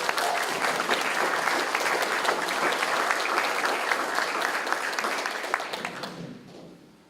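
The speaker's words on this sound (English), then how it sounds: "can we just get a round of applause for the singers?" Audience applause for singers at a military relinquishment of responsibility ceremony: strong, sustained clapping from a large crowd for about six seconds, then fading out quickly.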